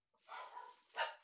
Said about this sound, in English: And then my dogs decide to bark.